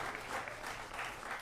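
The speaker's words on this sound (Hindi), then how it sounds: "बच्चों जरा तालियां।" Faint applause, a soft steady patter of clapping from a distant crowd.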